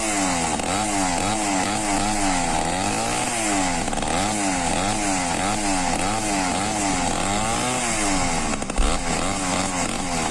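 An old motorized bicycle's small engine runs steadily at close range, a loud continuous buzzing drone with a wavering, revving pitch throughout and no talking.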